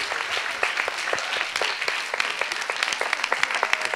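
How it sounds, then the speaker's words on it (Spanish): A school audience gives lively applause to an Antarctic base commander after a videoconference, many hands clapping in a dense, fairly loud, steady burst with individual sharp claps poking through. "Un aplauso para el comandante Daniel Vélez"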